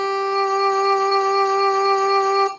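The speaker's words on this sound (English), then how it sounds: "Vadiswara is pancham, like it sounds like this." A single sustained pancham, the fifth swara of the raga, held steady as a clear harmonic tone for over two seconds before cutting off, sounding alone without talk.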